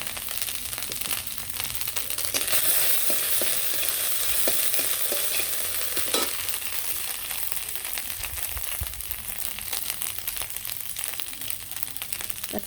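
Fish curry fries in a pan in a village Bengali kitchen after ginger goes in, a continuous close sizzle broken by stirring scrapes and a few sharper clatters, with no talking.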